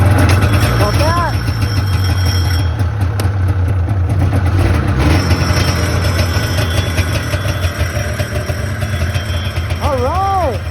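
A 1995 Indy Lite GT 340 snowmobile engine runs steadily at a loud, low idle throughout, with a brief chirp of something high above it and no clear speech.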